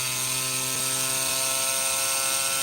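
A small drill grinds into stone under water, a steady high-pitched whine with a constant mechanical hum beneath it, close and continuous, with no talking.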